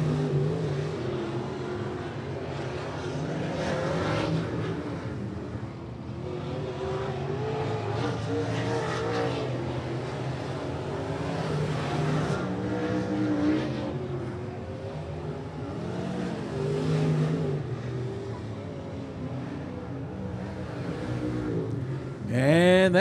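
Race cars run qualifying laps at Rockcastle Speedway, with car 26 and car 15 on track: a loud, continuous engine roar that swells and fades as the cars pass, with a brief burst at the very end.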